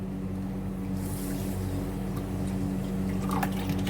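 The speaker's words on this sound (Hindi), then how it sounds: "1 कप के बराबर इसमें पानी डालेंगे।" Water is poured into a pan of sugar on a stove to make syrup, a continuous splashing pour over a steady low hum from the burner.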